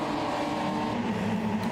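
A pack of race cars accelerating away at the start of a Division 3 race at Interlagos in a racing video game, a steady droning engine roar from many cars blending together, loud and continuous.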